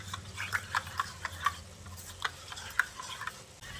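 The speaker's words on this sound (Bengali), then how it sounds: "এবার এই দুধের মধ্যে 1 চামচ পরিমাণ ময়দা গুলে নিচ্ছি" A spoon briskly stirs a spoonful of flour into half a cup of milk, making a run of light, close clinks and taps against the bowl over a faint background hum, with no speech.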